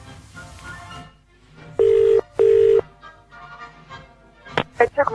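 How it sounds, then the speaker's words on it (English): A telephone number is dialed on a phone during a radio show call, heard as two long steady tones followed by a quick run of short dial beeps, with faint background noise between them. "as I dial this number"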